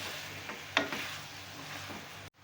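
Potatoes being stirred and fried in a pan over a medium flame, with a soft continuous sizzle and a few scraping strokes, fairly faint, with no talk, and cutting off abruptly at the end.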